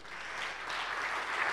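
An audience at a Slovak athletics federation ceremony claps for the honoured guests, a brief, soft and even wash of applause heard from some distance.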